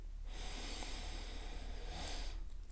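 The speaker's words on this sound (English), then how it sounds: "Breathe in deeply." A single deep inhalation during meditation, close and breathy, drawn in as one continuous airy rush that lasts a couple of seconds before easing off.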